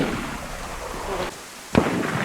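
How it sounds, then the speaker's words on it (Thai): Gunshots in DayZ in a Thai town setting, two sharp distant reports roughly half a second apart over a constant hiss of ambient game noise. "ทำไมเสียงปืนมันยิงแปลกๆวะ"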